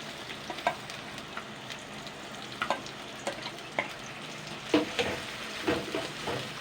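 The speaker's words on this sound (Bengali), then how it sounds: "এবার সবার প্রথমে পেঁয়াজগুলো ভেজে নেবো" Onions fry in refined oil in a wok with a continuous low sizzle, broken by intermittent louder crackles and stirring scrapes at an uneven rhythm, heard up close.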